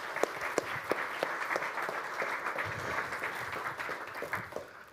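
An audience applauds at a conference closing, clapping steady and moderately loud for several seconds.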